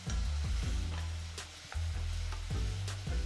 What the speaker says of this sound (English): continue to work the shrimp around in this beautiful glaze